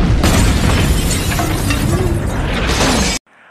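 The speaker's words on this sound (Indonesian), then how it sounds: "Markas mereka pun meledak dan hancur seketika." A loud, roaring explosion of a building in the film Charlie's Angels (2000), with crumbling, shattering debris, rumbles for about three seconds, then cuts off abruptly to near silence.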